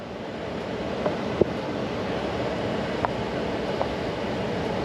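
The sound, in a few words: HVAC system blower running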